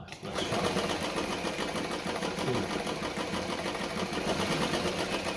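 A Singer 237 Fashionmate sewing machine running a straight stitch, with a steady fast mechanical whir and rapid needle clatter, close and continuous throughout.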